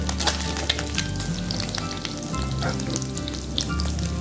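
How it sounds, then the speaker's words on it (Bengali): Mourola fish frying in a pan for a Bengali jhal chorchori, a steady close sizzle and crackle of hot oil running throughout with a low continuous hum beneath, no voices. "আর বেশি কড়া করে মাছটা ভাজবো না"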